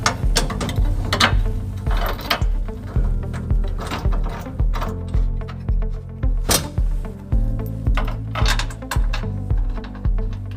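Bolts are fitted back in place while a trailer hitch is mounted behind a loose bumper, with steady runs of close, loud ratcheting clicks and metallic ticks that keep a repeating mechanical rhythm.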